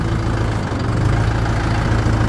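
A Mahindra 575 XP Plus tractor engine running in fourth gear: a loud, steady, low diesel throb with a constant rumbling hum, heard close up with no talking.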